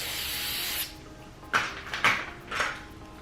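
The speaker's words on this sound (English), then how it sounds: "I'm gonna spray it underneath." A sustained hiss of aerosol hairspray sprayed underneath styled hair, then a few short bursts of rubbing and handling noise close by.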